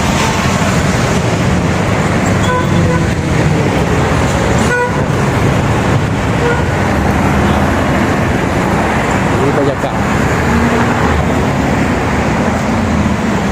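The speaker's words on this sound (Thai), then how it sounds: "นั่งรถเมย์มาก็ไม่นานเท่าไหร่นะครับ แต่ เขาขับ ค่อนข้างซิ่งพอสมควรครับขับเร็ว" A city bus speeds through Bangkok traffic with a steady, dense roar of engine and road noise, broken by a few short horn toots nearby.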